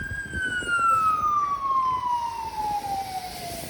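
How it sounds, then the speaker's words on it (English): A fire truck siren wails loudly nearby on a city street at night, its long tone sliding slowly downward over traffic rumble, with no one speaking. "And here comes a fire truck."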